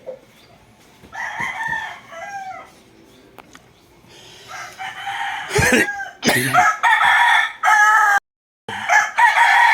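A large fighting cock crows repeatedly at close range in a Cavite yard, loud bursts with short gaps between them, after quieter clucking at the start.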